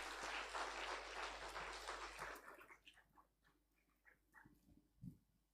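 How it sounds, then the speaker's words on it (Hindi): Audience applause at a Brahma Kumaris talk on emotional fitness, a dense, steady clapping that fades out after a couple of seconds into quieter scattered sounds. "सब जोरदार ताली बजा दें फिर से एक बार"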